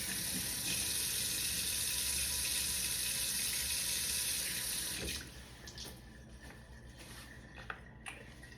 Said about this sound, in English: always rinse your vegetables.